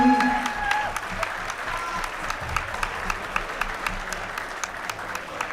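Crowd applause at a boxing match after the judges' decision for the red-corner winner, steady scattered clapping at moderate distance with occasional sharper claps, a brief voice and tone at the start.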